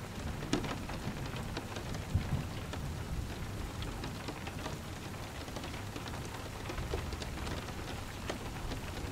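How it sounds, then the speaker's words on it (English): Rain falls steadily onto various surfaces in a thunderstorm, a dense patter of drops with a low distant roll of thunder beneath and no voices. "you hear the rain falling down onto various surfaces. The occasional roll of thunder and a gentle breeze."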